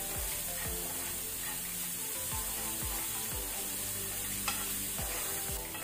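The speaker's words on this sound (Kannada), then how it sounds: "ಇದನ್ನ ನಾವೀಗ ಗೋಲ್ಡನ್ ಕಲರ್ ಬರೋ ತನಕ ಮೀಡಿಯಂ ಫ್ಲೇಮ್ ಅಲ್ಲಿ ಫ್ರೈ ಮಾಡ್ಕೊಳ್ಳುವ." Onions frying with ginger and salt in a pan over a medium flame, a steady even sizzle with rhythmic spatula strokes repeating roughly every half second, close and fairly loud.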